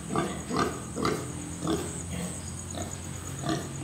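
Pig on a pig farm grunting in a series of short, rhythmic, close-up grunts, roughly one every half second, with a steady low hum of the barn behind.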